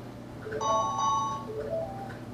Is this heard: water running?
no